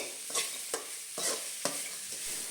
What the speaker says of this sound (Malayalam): സവോള ചേർത്ത് നമുക്ക് നന്നായിട്ടൊന്ന് വഴറ്റിയെടുക്കാം.